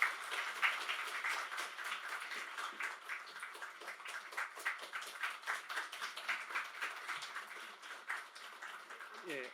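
Church congregation applauding to welcome a guest pastor at a Holy Week revival service, a steady spread of many hands clapping at moderate distance, filling the room evenly throughout.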